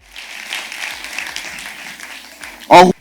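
Audience applause at a gathering, a soft spread of clapping from a crowd filling most of the stretch, ending in a short loud burst that sounds like a voice.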